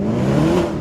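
A Mercedes-Benz AMG SLS engine holds a steady, loud, throaty rev for a brief moment, close by and unbroken, with no voices over it.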